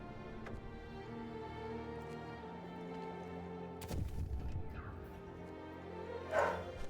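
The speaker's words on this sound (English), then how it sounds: "And Charlie barks." A dog barks a couple of times, short and somewhat distant, over steady background music from a city-building game.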